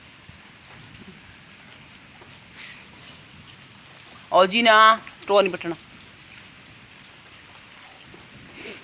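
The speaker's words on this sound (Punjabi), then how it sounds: "ਮੀਂਹ ਬਹੁਤ ਜ਼ਿਆਦਾ ਤੇਜ਼" Heavy rain falls in a steady, even hiss on a village farm, with a person speaking briefly in the middle and faint bird chirps around it.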